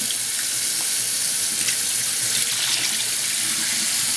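Rinse water poured out of a pot of rice into a sink, a steady close splashing rush of water that runs evenly throughout, heard alone without talk.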